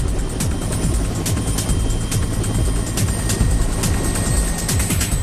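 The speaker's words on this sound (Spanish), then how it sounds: "Desde un helicóptero llevaron el extremo del cable desde el anclaje a la primera torre." A helicopter flies over a bridge construction site carrying a cable end toward a tower, its steady rotor thump loud and continuous throughout, with no speech.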